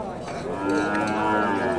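A Friesian heifer moos at a rural cattle market, a long, close, drawn-out low call that swells in the second half, with faint crowd noise behind it.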